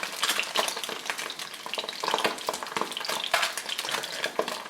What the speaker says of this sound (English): Whisk in all my seasoning here.